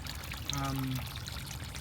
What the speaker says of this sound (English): the water comes up to this bog filter thing here. It is sitting on a couple of blocks there just to keep it elevated so the water could flow with gravity